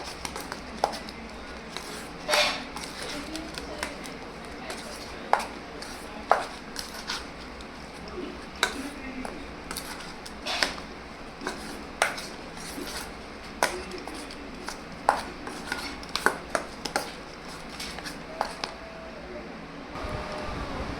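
Leftover roti mixture is mixed with chaat masala, heard as repeated soft taps and knocks of a spoon against a bowl, irregular and close over a faint fan-like hum.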